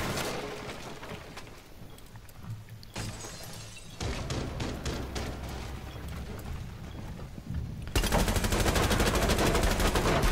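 Video game gunfire, with dense bursts of shots and clattering impacts that grow louder and more continuous toward the end. No one speaks.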